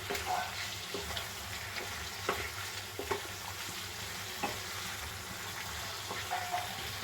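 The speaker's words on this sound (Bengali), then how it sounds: "আলুটা দিয়ে নাড়াচাড়া করব।" Potatoes sizzle and fry in a pan of Bengali egg curry, with a spoon stirring and scraping in irregular clicks over a constant close hiss.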